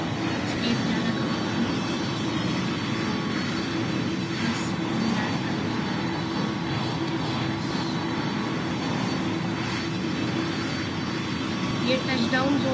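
An airplane lands on a runway in the Roblox PTFS flight game, a steady engine hum and rushing drone throughout, with someone talking over it.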